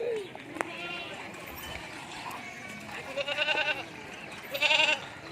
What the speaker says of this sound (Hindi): ये देखें बकरा बहुत ही प्यारी चीज़ है